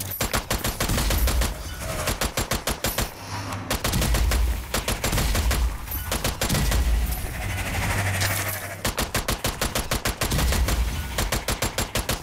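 Rapid bursts of gunfire from the Strange Brigade video game crackle in loud, repeated volleys, with a brief lull midway before the shooting resumes hard and fast.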